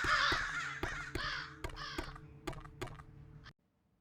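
Crows caw in the cyberpunk ghost-story game Sense, a run of several sharp, close calls in a quick uneven rhythm, with mechanical clicks under them, before the sound cuts off abruptly.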